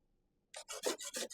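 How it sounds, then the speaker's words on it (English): Coconut flesh rubbed on a hand grater for Jamaican sweet potato pudding: after a short silence, five quick rasping scrapes follow one another close up. "You have to take your time, rub it on the grater, okay?"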